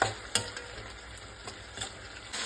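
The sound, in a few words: tamarind juice boiling in pan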